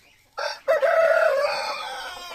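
A heavy rooster at a backyard chicken coop gives a loud, close crow, a short opening note followed by a long drawn-out call.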